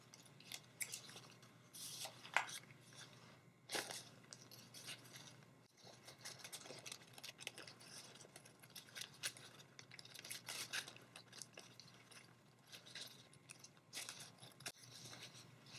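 Scissors snipping through a paper pattern for a Dollar Tree Valentine's upcycle craft, heard as faint, close, irregular crisp cuts and rustles of paper at a quiet level, with no talking.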